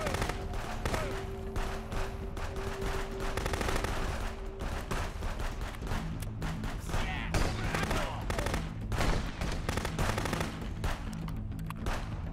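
Gunfire in the video game Contraband Police, rapid repeated shots and bursts in irregular clusters across the stretch, loud and sharp, with occasional game ambience between volleys and no talking.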